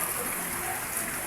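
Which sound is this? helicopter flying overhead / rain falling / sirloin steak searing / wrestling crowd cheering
rain falling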